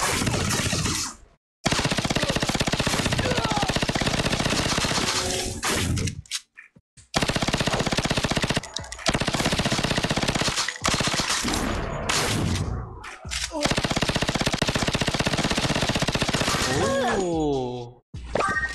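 Rapid automatic gunfire in the mobile FPS game Superpower Squad, loud sustained bursts broken by brief silences, with rising whooshing game effects near the end and a voice talking over the action.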